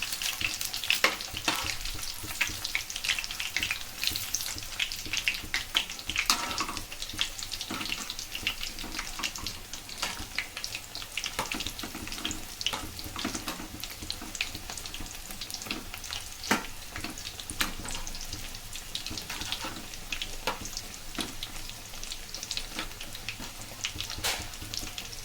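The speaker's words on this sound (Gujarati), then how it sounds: "તો આ રીતના આપણે મુઠિયા કરીને ઘીમાં તમે કાઢી શકો અથવા તો તેલમાં કાઢી શકો" Muthiya dough pieces for ladwa frying in oil, a dense continuous crackling sizzle with scattered pops and bubbling, steady and close throughout.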